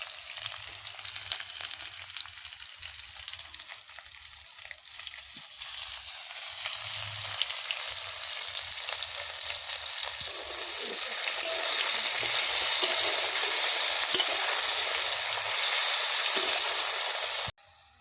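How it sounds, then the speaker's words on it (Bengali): Sliced potatoes with salt and turmeric fry in oil left over from frying hilsa fish outdoors in a forest, a continuous close sizzle that builds louder over the second half with occasional stirring scrapes before stopping abruptly. "এই মাছ ভাজার তেলে এই আলুগুলো দিয়ে দিচ্ছি।"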